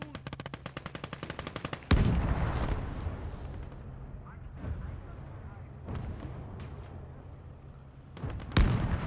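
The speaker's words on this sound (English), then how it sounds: "Panzer IV is trying to take some shots at us." Gunfire and tank cannon in the Gates of Hell: Ostfront war game, with a rapid machine-gun burst, then a loud Panzer IV shot booming and rumbling, and a later blast near the end, with talk over the fighting.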